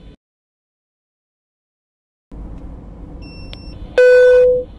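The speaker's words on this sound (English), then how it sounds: "Alerts are displayed on the R-Watch screen with accompanying auditory alarms." An AI fleet dash cam sounds a lane departure warning, a loud sustained electronic beep tone that cuts in abruptly over road noise from inside a moving vehicle, after a brief faint blip.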